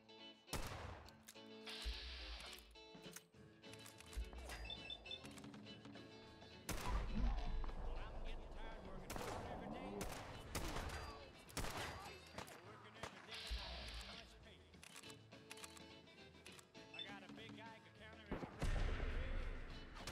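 Gunfire in the video game Fallout 4, a series of sharp shots and bursts scattered through a busy mix of game sounds and music, fairly loud, with some talk over it.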